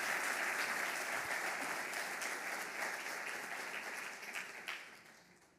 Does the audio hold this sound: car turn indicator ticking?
no